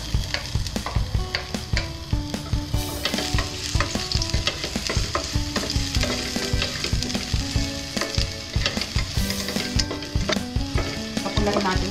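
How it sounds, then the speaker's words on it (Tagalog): Garlic sautéing in a pan for pinakbet, a loud, close, continuous sizzle with frequent stirring scrapes, set against rhythmic background music. "Pakulahin natin ang bawang."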